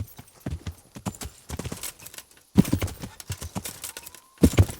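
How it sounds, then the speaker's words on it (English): A horse in Kingdom Come: Deliverance gallops in uneven bursts of loud, close hoofbeats separated by short pauses, with a brief whinny amid the clatter. "Come on, horsey."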